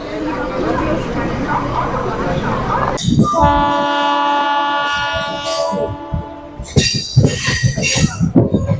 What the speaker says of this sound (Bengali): প্রায় দেড় ঘন্টা দেরিতে ভুবনেশ্বর স্টেশনে ঢুকছে দেখো তোমরা